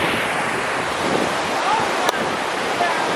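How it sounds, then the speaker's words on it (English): Rushing waterfall in Lauterbrunnen, Switzerland, a dense, steady roar of falling water with some wind buffeting the microphone, loud and continuous throughout. "it is water, and it's going to be the waterfall that you hear"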